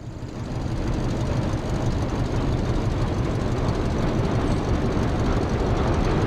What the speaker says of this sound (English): Oh, we have a train.